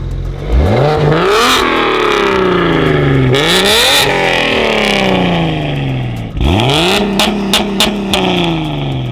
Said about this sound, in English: The N54 exhaust note is completely different with the valves closed, super muffled, super stealth.